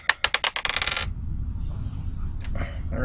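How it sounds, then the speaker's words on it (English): A pack of 2014 Topps Strata football trading cards gets a quick, close riffle shuffle: a rapid flutter of crisp card snaps for about a second. A soft, low handling rustle follows. "We'll shuffle it 10 times."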